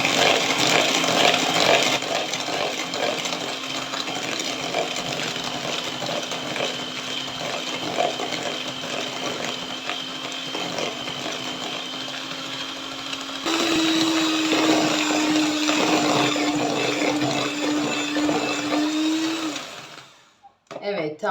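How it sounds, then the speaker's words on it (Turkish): An electric hand mixer whisks egg yolks and sugar to a thick cream for a layer cake, a loud steady whine that steps up in pitch partway through, then winds down and stops. "göz göz olana kadar yumurtam ve şekerimi çırpacağım"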